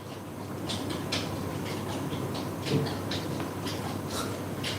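A dog laps water in quick, irregular wet slurps, fairly faint beneath a steady background hum.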